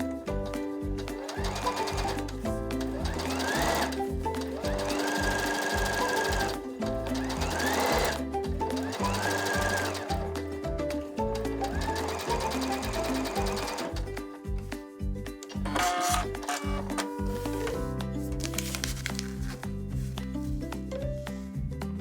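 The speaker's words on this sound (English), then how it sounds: "And then I'm going to sew right on this line." Sewing machine stitching fabric pieces for a bunny quilt block, running in fast steady bursts with brief pauses and restarts throughout, close and loud, with no talking.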